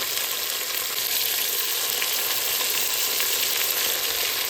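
Onion sizzles in hot oil with dried red chilies and cinnamon bark as the base for tomato rice, a steady, close, continuous frying hiss with no pauses and no talking.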